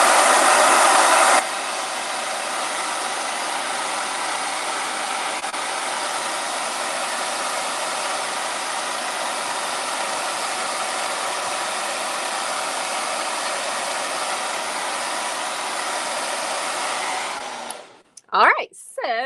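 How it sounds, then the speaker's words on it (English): A blow dryer runs with a steady loud whoosh for a long stretch, then switches off, followed by a few clicks and rustles. "I'm going to hit it with the blow dryer"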